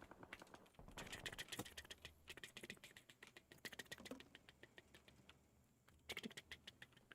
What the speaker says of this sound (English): This is the sound of an oversized spider running around.